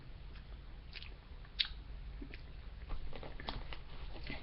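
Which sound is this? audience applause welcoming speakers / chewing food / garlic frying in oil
chewing food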